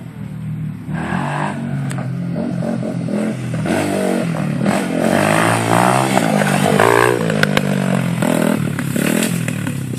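A Honda CRF 100 dirt bike rides on a dirt track, its engine buzzing and revving steadily and loudly close by, with clattering and scraping over roughly ten seconds.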